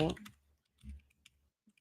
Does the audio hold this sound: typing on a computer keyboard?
yes